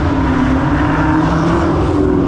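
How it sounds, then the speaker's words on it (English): A straight-piped, cammed C5 Corvette engine roaring loud and close, a continuous heavy drone with a slightly lumpy idle character, heard from inside the car with no talking. "This car sounds insane now."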